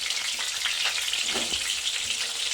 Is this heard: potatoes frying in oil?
yes